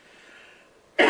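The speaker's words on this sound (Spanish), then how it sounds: "Perdonen ustedes con mi tos" One sharp cough bursts out near the end after a quiet, faintly hissing room, loud and close to the microphone.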